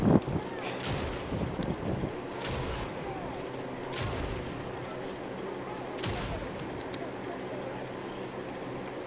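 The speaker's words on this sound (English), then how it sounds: "if you spam the fire button on a pistol, it's like a semi-auto pistol" A pistol in a video game fired rapidly in semi-automatic bursts, sharp repeated shots cracking over a steady noisy background, fairly loud and close, with no talking.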